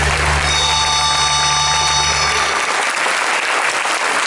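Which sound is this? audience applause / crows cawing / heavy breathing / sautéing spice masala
audience applause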